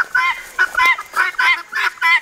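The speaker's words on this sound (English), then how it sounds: "guineas, we hear you" Guinea fowl call noisily in a garden, a loud close burst of harsh, rhythmic honking cries repeating in quick groups with brief gaps between, with no talk over it.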